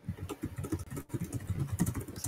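Rapid, frantic typing on a computer keyboard during an online game match, a dense patter of clicking keystrokes heard close and fairly loud, with bursts of heavier key strikes throughout.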